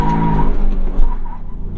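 A 2022 Ford Maverick pickup with a manual clutch accelerates hard, its engine revving loudly and close, with a brief tire squeal in a short burst and no talking.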